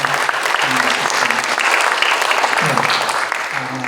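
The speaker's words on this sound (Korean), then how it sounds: "우리 박수 한번 합시다." At a Christian Liberation Day prayer meeting, an audience gives the choir ensemble a loud, sustained round of applause from many hands, with a voice briefly audible beneath it.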